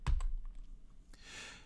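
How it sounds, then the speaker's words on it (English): A single key press on a computer keyboard while setting up automation in Logic Pro X, a sharp close click at the start followed by a softer second tap, then quiet room tone and a brief hiss. "Press A on your keyboard."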